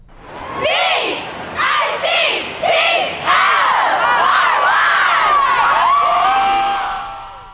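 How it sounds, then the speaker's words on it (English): Hundreds of Steelers fans at a downtown Cage the Cards rally, waving towels, cheer and chant together, with bursts of crowd shouting building into a loud sustained roar that fades slightly at the end. "County Executive Dan Honorato and Mayor Lou Gravenstall led the crowd in cheers and chants"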